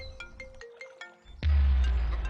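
A phone rings with a repeating electronic melody of short beeps, then a loud low rumble abruptly takes over.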